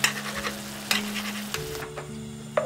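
Chicken breast stir-frying in a pan with onion and mushrooms, a steady close sizzle with sharp scraping strokes of a utensil stirring at irregular intervals, no talking.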